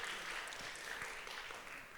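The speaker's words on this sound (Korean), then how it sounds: "박수 한번 부탁드립니다" Applause from a church congregation at a Sunday young adults' worship service, a steady, fairly quiet wash of clapping lasting about two seconds.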